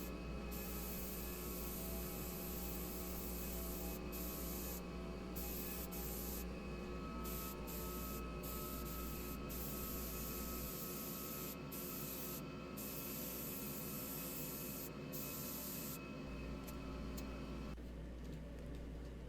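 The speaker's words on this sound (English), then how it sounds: "I'm just spraying the lacquer on these drawers, and I do this twice." Spray gun misting lacquer onto wooden dresser drawers: a steady, continuous airy hiss with a constant low compressor-like hum beneath, held close and loud for the whole stretch, easing slightly near the end.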